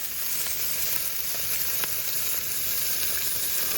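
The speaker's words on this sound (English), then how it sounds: "the burgers are coming along nicely here, sizzling" Hamburgers sizzling on a camp grill in Monache Meadow, a steady close crackling hiss with small pops, continuous and unbroken with no voices.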